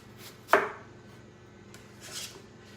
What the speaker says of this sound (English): we are taking these apples and we're just gonna cut them into slices.